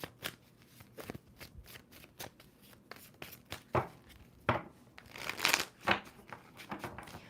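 Tarot cards being shuffled by hand, a series of quick riffling and tapping bursts, close and fairly quiet, with no talking.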